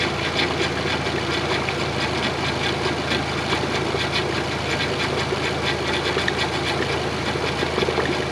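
Car engine idling steadily throughout during a power steering hydraulic fluid flush, a continuous loud mechanical drone with no talk.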